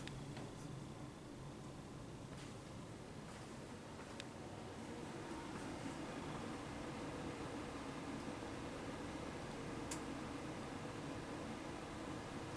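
A hotel HVAC unit in a foyer at a Marriott in Athens, Greece runs with a faint, steady airy hiss and soft fan hum, broken now and then by tiny clicks.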